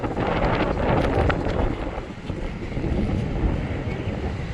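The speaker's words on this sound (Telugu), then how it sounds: "గాలి బాగా వస్తుంది" Strong wind gusting at a beach in Pondicherry, buffeting the microphone with a steady loud roar that swells and dips slightly, with faint surf underneath and no voices.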